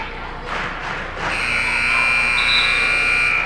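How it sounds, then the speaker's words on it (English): A buzzer at a high school basketball game during a quick break, sounding as a loud, steady electronic tone for about two seconds after a short murmur of crowd noise. "As buzzer sounds out of the quick break here"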